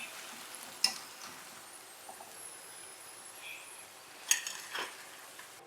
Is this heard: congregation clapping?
no